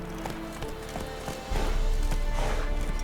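Roach, a horse in The Witcher 3, gallops in a steady rhythm of hoofbeats that grows louder and heavier partway through, set against a dense game soundscape with no talk.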